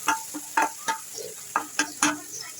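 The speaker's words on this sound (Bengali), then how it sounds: "ফোড়ন দিয়ে দিলাম।" Spices temper in hot oil for Bengali bean patury, with sharp, irregular spatters and stirring clacks in short bursts close to the pan, no talking.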